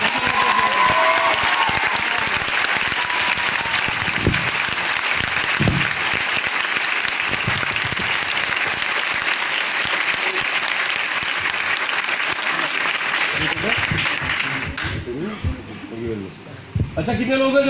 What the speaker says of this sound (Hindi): ताली बजाओ तो दिल खोल के बजा सकते हो यार